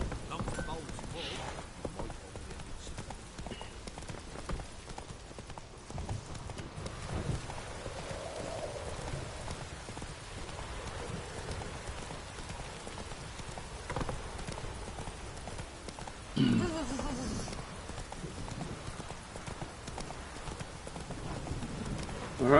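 In The Witcher 3, horse hooves clip-clop steadily through the rain, a faint, continuous patter of hoofbeats under rainfall, with game characters' voices speaking at times.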